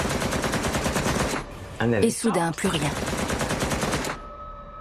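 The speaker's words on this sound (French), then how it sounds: "Tout à coup, on a entendu des coups de feu." Gunmen storming a studio fire many rapid shots in a dense, steady burst that pauses briefly for a voice, resumes, then cuts off abruptly into silence.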